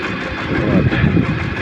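A Shifeng 244 tractor engine runs steadily at close range, a loud continuous mid-pitched rumble with no pauses.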